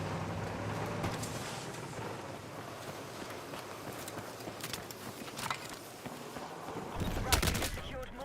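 Turret gunfire in Battlefield 6 rattles in rapid bursts across a busy battlefield mix, with sharper volleys near the end, steady and mid-distance throughout, no voices.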